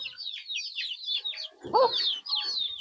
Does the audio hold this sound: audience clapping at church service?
no